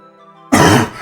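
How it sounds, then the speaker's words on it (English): A single harsh cough bursts out after a stretch of quiet background hum, loud and close, lingering from a sickness, then tails off into a softer rasp. "Still got that lingering cough"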